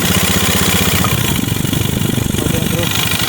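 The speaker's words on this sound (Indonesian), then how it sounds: "Oke Mas Bro, mesinnya langsung hidup ya" A Honda Beat scooter engine that has just started, heard idling loud and close in a fast, steady putter, with someone talking over it.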